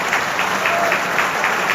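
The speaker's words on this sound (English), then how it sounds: "One lady standing up applauding." Applause from a single woman standing up, a light pattering of clapping, fairly steady and close, with faint background noise and no other crowd.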